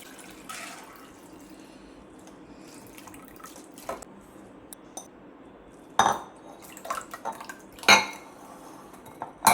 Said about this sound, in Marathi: आता आपण हे पाणी निथळून काढूया तांदळातलं